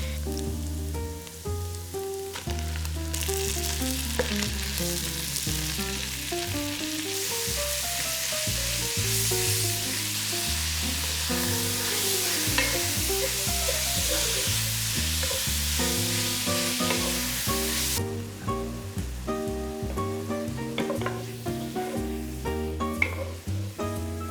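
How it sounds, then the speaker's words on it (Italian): Minced beef sizzles steadily in a frying pan for Bolognese ragù, a continuous frying hiss running under loud music with no talking. "adesso mettiamo la carne di macinato di manzo"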